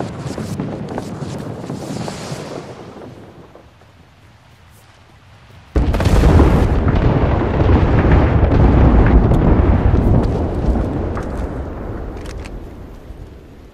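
Artillery strike explosions in a video game: a lower rumble fades out, then a sudden loud blast hits and rolls on as a long, heavy, roaring rumble that slowly tapers.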